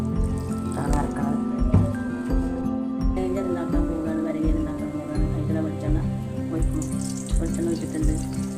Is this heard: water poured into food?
yes